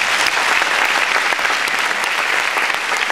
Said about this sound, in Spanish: Hoy está aquí Marcos, Lili y Marcela, así que un aplauso para ellos.